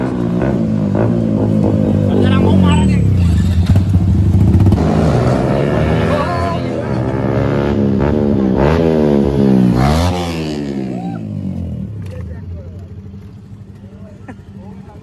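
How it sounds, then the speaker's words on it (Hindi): A KTM RC Duke 200 and a Yamaha R15 rev and accelerate in a roadside drag race, with rising engine notes and gear changes that are loud up close, fading at the end, while people talk over them. "सामने ड्रैग रेस होने स्टार्ट होने वाली है, KTM RC ड्यूक 200 और R15 के बीच में"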